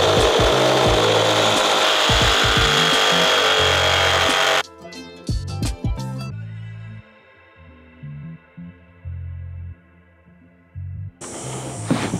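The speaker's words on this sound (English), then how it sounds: "let's cut this first joist." A power saw rips through a wooden floor joist during a subfloor build for an A-frame house, a loud, steady buzzing cut for about four seconds, then the blade whines down and quieter knocks and handling noises follow before a short burst resumes.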